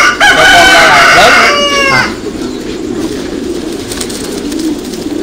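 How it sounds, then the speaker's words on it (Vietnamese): Thai super-meat pigeons on a large pigeon farm give a loud, close call with stacked, wavering tones for about two seconds, then fade into a steady hum of barn noise and distant coos. "Loại bồ câu là bồ câu của Thái siêu thịt."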